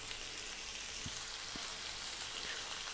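Lentils and tomato are added to a hot frying pan, and a steady, fairly quiet sizzle and crackle continues throughout, with a couple of soft thuds and no talk.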